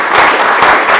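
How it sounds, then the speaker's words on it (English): A crowd at a community center fundraising milestone event applauds, a dense steady wash of clapping filling the whole moment without pause. "applause to you"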